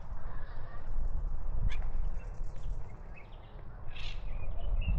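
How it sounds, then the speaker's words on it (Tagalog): Birds chirp in trees outdoors in Jerusalem, scattered short calls over a rumbling background of wind and distant noise, with a louder call near the end. "Yung mga ibon, iyon ang ating naririnig."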